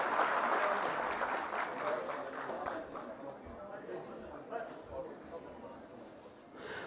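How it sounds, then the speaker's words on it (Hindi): An audience gives sustained applause to welcome foreign delegates at a workshop, the clapping fairly distant and gradually thinning over several seconds, with faint voices underneath. "कृपया जोरदार तालियों के साथ अभिनंदन करें"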